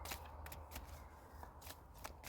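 A deck of cards being shuffled by hand, soft riffling and sliding bursts in an uneven rhythm, faint and close with no speech.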